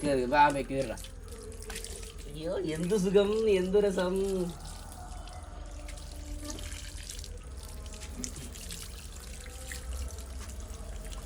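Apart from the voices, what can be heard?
water poured while bathing pet dog Micky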